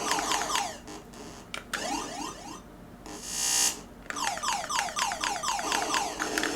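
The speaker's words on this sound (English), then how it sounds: "That little beeping in the background, I don't really know what that's for." Rapid electronic beeping from the Asteroids game on the Atari 7800, repeating bursts of chirpy tones with a steady background beep and a short hissing blast midway, loud and continuous.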